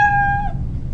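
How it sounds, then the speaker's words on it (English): A single cat meow, clear and close, rising into a tonal cry and fading after about half a second, with a low background hum and no talk. "So that's a cat meowing."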